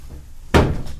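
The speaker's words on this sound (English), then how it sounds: "I can't slam a sliding door" A sliding door is slammed shut, a single sudden loud thud and rattle cutting through a quiet room, then briefly ringing out.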